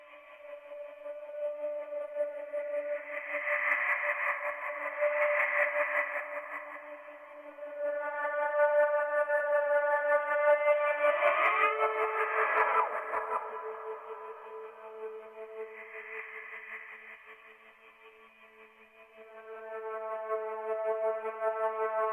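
A reversed guitar volume swell with tremolo and the low end removed rises and falls in slow waves of bright, wavering tones, with a denser surge near the middle.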